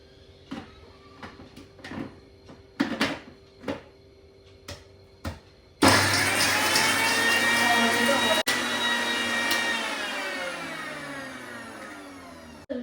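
A kitchen mixer grinder crushes chicken curry ingredients: scattered clicks and handling knocks come first, then the motor starts loudly and runs with a high, steady whine, one brief stutter midway, winding on near and alone.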